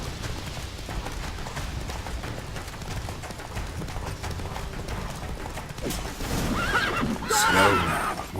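Roach, a horse in The Witcher 3, whinnies loudly near the end over the steady clip-clop of galloping hooves and rattling tack, with game ambience throughout.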